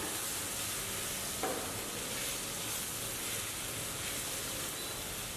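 Ground coconut and green chilli paste being stirred gently into pumpkin poriyal in a pan, a steady close sizzle with soft scraping and one brief clink of the utensil against the pan.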